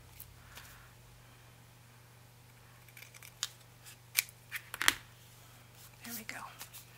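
Scissors snip paper for a decorated ring-bound journal, giving several short, crisp cuts in quick succession at close range over a steady low hum, with faint rustling of paper between snips.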